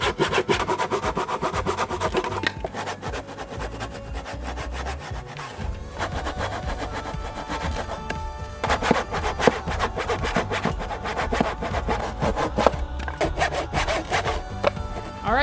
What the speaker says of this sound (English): Is this thing better than just a saw? I don't know, because it's Japanese.